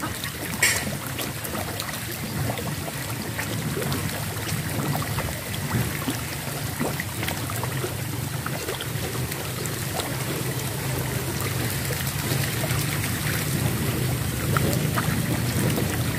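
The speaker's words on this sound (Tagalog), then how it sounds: "may ganito na talagang umaagos yung tubig." Water flowing steadily through a duck enclosure used for drinking and bathing, a continuous broadband rush with low rumble, constant and fairly close, no talking.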